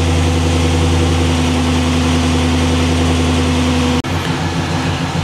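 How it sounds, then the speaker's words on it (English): A G-body car with an LS engine swap and factory air conditioning idles steadily and loudly up close, a deep even rumble that briefly dips around the four-second mark before settling back into its idle. "I'm gonna let it idle down"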